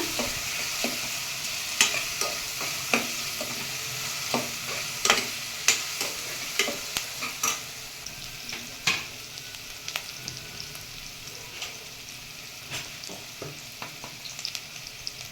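Onions fry with spices in a pan for masoor dal tadka, a continuous soft sizzle punctuated by a steady series of sharp spatula scrapes and clinks, close and fairly quiet, with no talk.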